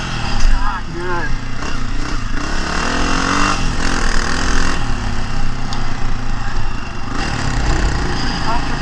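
A 2023 Honda CRF250F dirt bike engine running quietly while riding, a low steady rumble held beneath someone talking close by.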